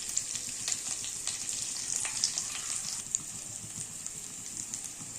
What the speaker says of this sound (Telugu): కొంచెం ఆనియన్స్, చిల్లీస్, కరివేపాకు వేసుకొని బ్రౌన్ కలర్లో వచ్చేంత వరకు ఫ్రై చేసుకోవాలి